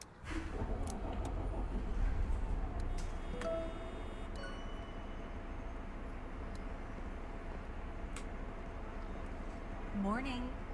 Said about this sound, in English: You can hear engine sounds now.